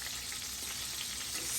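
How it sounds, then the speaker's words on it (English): Food fries and sizzles in a pan during off-grid cooking, a close, bright, continuous crackle and hiss that holds steady throughout with no voices. "it's frying up. You can hear the sizzle."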